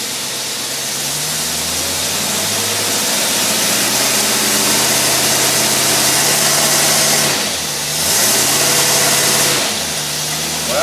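A car engine fitted with a Rochester two-barrel carburetor runs steadily under dyno load, a loud continuous drone with a brief dip and recovery near the end, no talking.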